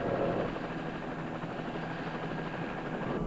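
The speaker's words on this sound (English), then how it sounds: "providing a helicopter and flying the chief above Chelsea to give him an overview" A helicopter, provided by the Massachusetts National Guard, flies over a fire-stricken area of Chelsea in 1975, its continuous rotor thump and engine roar steady and fairly close throughout.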